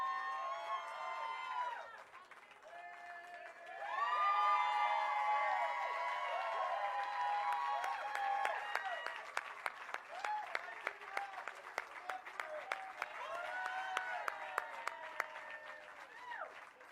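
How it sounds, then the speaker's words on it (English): A crowd at a Hollywood Walk of Fame star ceremony claps and cheers outdoors, with sustained applause and scattered sharp individual claps growing more prominent later, while a voice talks over it near the start. "Oh yes, you can clap."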